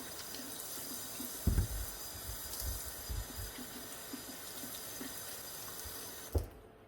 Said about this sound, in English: typically we just want to wash them off